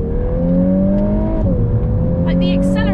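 Volkswagen Golf R Mk8 engine pulling hard on country roads, a steady rising drone that dips briefly at a gear change then climbs again, heard from inside the car.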